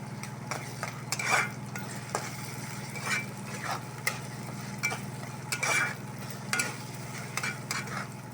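Ginger garlic paste fries in a pan for a dhaba-style egg masala curry, a steady low sizzle punctuated by repeated scraping stir strokes at irregular intervals, close and clear, with no talking.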